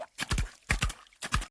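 Horse hooves clip-clop in three close, crisp pairs of hoof strikes, loud and near, with no talking.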